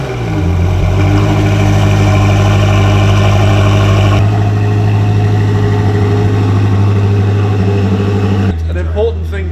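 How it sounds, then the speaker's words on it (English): A Koenigsegg supercar engine runs at a loud, steady idle throughout, a deep constant drone with a slight change in tone partway and a brief shift near the end. "let's fire the Koenigsegg up."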